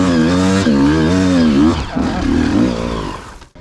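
A race motorcycle is climbing a steep hill on race day under heavy throttle with the clutch slipping. Its engine note is loud and close, rising and falling in pitch as the revs surge, then trails off at the end.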